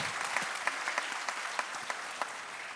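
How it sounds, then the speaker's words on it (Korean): Applause from an audience of parents at a school talk concert on education, a brief steady patter of many hands clapping in a hall with a few sharper claps standing out. "박수 부탁드리겠습니다"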